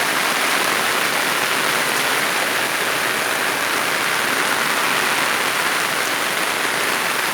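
Heavy rain pours down on a garden with hydrangeas and grass on a wet day, a dense, loud, unbroken wash of falling water throughout.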